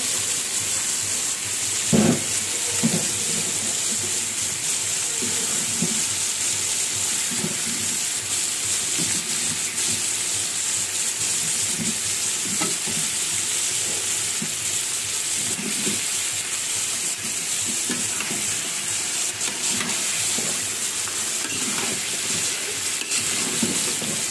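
Meat and potato pieces sizzle steadily in a hot pan, hissing and crackling close by, with occasional scraping and clanking as the food is stirred, and no voices heard.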